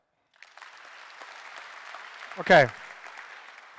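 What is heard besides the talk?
audience of designers clapping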